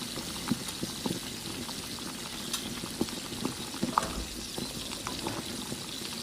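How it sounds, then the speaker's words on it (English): Garlic sautéing in a pan gives a steady, close sizzle with faint crackles and occasional soft clicks of stirring, continuous and even throughout. "Sauté for 30 seconds."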